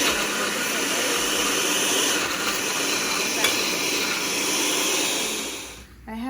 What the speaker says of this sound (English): So I will go ahead and kickstart the blender.